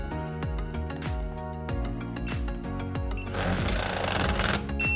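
A YOKOTA YS-e950 system wrench runs a tightening cycle with a rapid string of sharp mechanical impacts, close and steady. A hissing burst of noise takes over near the end.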